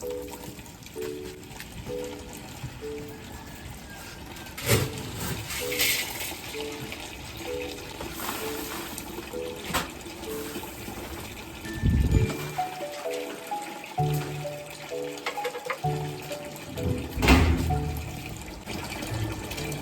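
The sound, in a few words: water filling buckets for soaking horse feed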